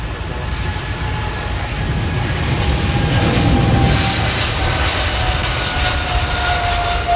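Aircraft arriving on runway 27R at Heathrow: a loud, close jet engine roar that holds steady and swells slightly before easing, with no talk.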